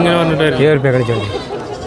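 Goats bleat at the crowded Chattipparamba goat market, loud wavering cries mixed in with nearby voices.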